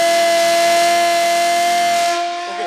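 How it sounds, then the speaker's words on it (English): A loud, steady wailing civil defence air raid siren during a mock aerial-attack drill in Lucknow, holding one pitch, close and continuous, fading slightly at the end. "And that's the siren, that's the alert by the civil defense."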